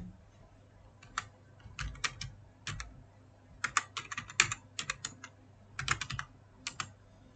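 C code being typed on a computer keyboard: quiet, uneven bursts of key clicks in short clusters with brief pauses, close and alone.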